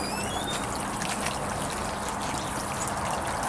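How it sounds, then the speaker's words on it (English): Outdoor fountain running continuously with fresh, oxygenated water, a steady close trickling and splashing wash that stays even throughout with no talk over it. "That is a fountain, runs all the time, has water, fresh water, it's oxygenated."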